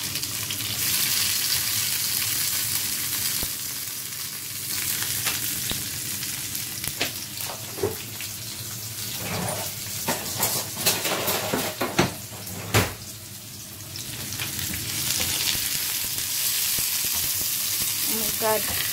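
Chopped onions hit hot olive oil in a pan for ampalaya with eggs, giving a loud, steady sizzle with sharp pops and spatters scattered throughout, with no voices.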